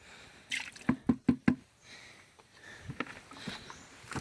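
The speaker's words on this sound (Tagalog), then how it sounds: "Yan, tumutulo pa yan." Milk squeezed from grated coconut drips into a pail: a quick run of four sharp, close drips, then softer, scattered drops trailing off.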